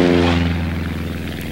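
A light airplane's engine roars at full power during a go-around, a loud, steady propeller drone with strong harmonics that eases slightly in pitch and level, no voices present.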